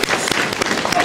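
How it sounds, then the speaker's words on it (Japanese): An audience claps together at an interactive attraction at Tokyo DisneySea. The clapping is close and dense, with sharp individual claps, and voices mix in underneath. "みんな拍手だ。"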